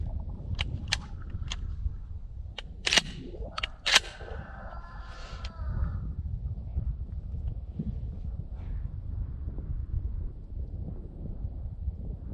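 Remington 870 pump shotgun fitted with Magpul furniture, fired outdoors in a few loud sharp blasts with ringing decay, over steady wind noise on the microphone.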